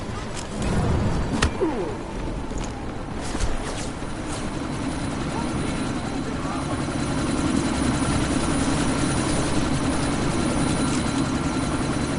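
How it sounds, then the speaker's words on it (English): In the Deus Ex: Mankind Divided video game, a helicopter takes off with a loud, steady rotor roar and engine whine that swells and holds throughout, while voices call out over it. "That chopper's about to take off!"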